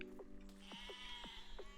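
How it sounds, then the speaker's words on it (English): Sheep in a video game bleat several times in quick succession, short wavering cries heard over steady game music at a low level. "Let's keep on trying to kill some sheep, which sounds so awful."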